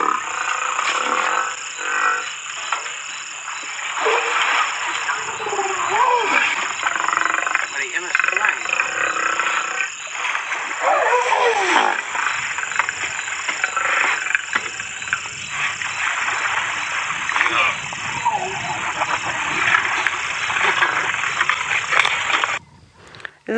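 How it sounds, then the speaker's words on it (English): Two big hippopotamus bulls of similar size, angry and calling on a sunset safari drive, give deep grunting and roaring calls over a long stretch, heard at a distance through steady ambient noise, with some talk mixed in. "So that is the sound that a hippopotamus makes when it is angry and doesn't want to be seen anymore."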